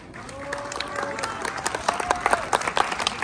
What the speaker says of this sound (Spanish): Que se escuche fuerte ese aplauso.